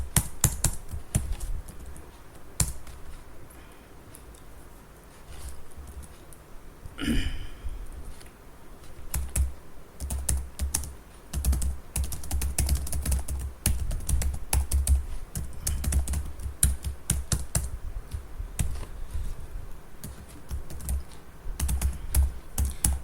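Rapid, uneven keystrokes on a computer keyboard while Java code is written in a plain text editor, clicking on steadily through the stretch with brief pauses and a short sweep partway through.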